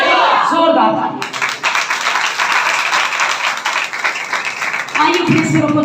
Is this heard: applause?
yes